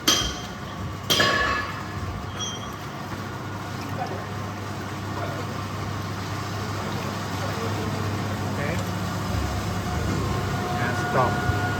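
A 300L steam-heated vacuum emulsifying mixer running its water tank mixing function, a steady low mechanical hum and drone with a few clinks near the start, continuous and even.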